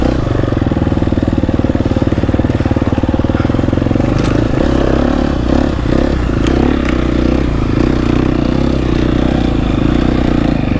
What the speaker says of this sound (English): here you can tell I'm lugging it pretty low, and it's doing good